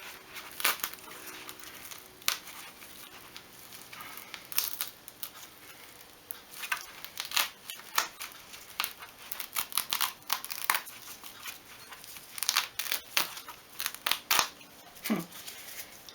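Shadow foam being cut for toolbox organisation, a quiet series of irregular snips and crisp crinkling cuts spread unevenly throughout, close and faint with no talking.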